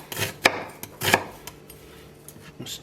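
A knife slices through red onion on a cutting board in a home kitchen: a few separate, crisp chops with knocks on the board, close and distinct, then quiet.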